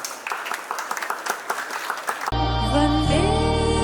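An audience at a school Independence Day celebration claps for performing children in a dense burst of applause, which cuts off abruptly and gives way to loud, sustained music with a singing voice.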